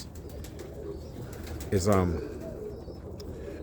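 A South African Birmingham Roller pigeon gives one short, throaty coo close by, with a voice talking briefly and faint background noise.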